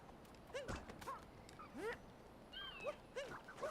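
Dog in Super Mario Odyssey giving a run of short, yipping barks and whimpers, several bursts spaced irregularly over a few seconds, fairly clear with faint background game sound.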